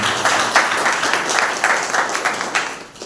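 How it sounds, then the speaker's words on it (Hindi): A congregation at a Sunday church service claps loudly for God, a steady burst of many hands applauding together with no one speaking. "आइए परमेश्वर के लिए एक जोरदार ताली बजाते हैं।"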